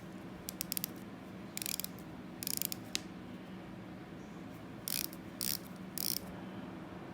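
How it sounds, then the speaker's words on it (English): The 120-click unidirectional dive bezel of a Steeldive SD1975 'Tuna' watch is turned in short bursts, giving quiet, crisp rapid ratcheting clicks with brief pauses between runs. "unidirectional dive time bezel, a tiny little bit of wobble, although it is a decent action."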